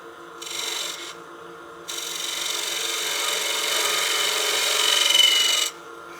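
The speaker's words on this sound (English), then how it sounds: "Get my spindle gouge to cut a clean tenon." Spindle gouge cuts a tenon on wooden stock spinning on a wood lathe, giving a close, steady scraping hiss that starts, stops briefly, then runs longer before cutting off, with no talking.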